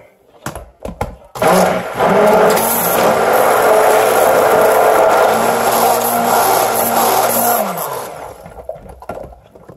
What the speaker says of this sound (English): Putting my stick blender a little bit.